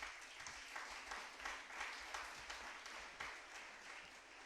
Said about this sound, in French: Et ce maître n'est rien d'autre que Jésus-Christ que je veux qu'on acclame ce soir.